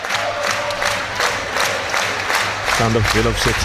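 A York City football crowd chants loudly all around at a National League match against Aldershot Town, a steady roar of many voices with a commentator talking over it.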